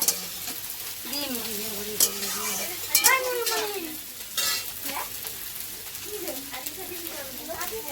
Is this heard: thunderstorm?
no